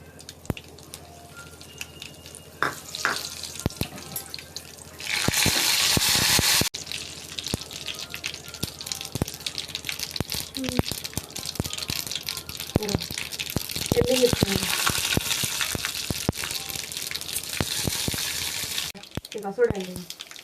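Cumin and mustard seeds fry in hot oil with a steady hiss and scattered crackles, including one louder sizzling burst, while a person talks over the cooking.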